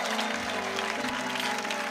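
A church congregation claps continuously in dense, even applause. The sound is loud and sustained throughout, with faint tonal sound in the background.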